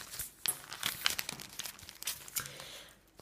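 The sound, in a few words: paper bag crinkling while handled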